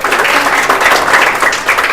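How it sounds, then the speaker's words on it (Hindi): A class of students claps together in a classroom, steady, dense applause, loud and close, lasting the whole two seconds with no voices over it. "ताली बजाओ, वेरी गुड।"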